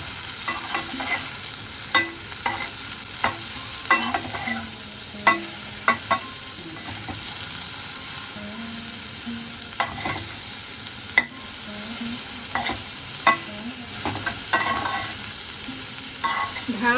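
Okra frying with tomato, turmeric, Kashmiri chilli powder and salt in a spice masala, a soft steady sizzle broken by repeated sharp scrapes and taps of a stirring spoon at a loose rhythm, close and fairly quiet.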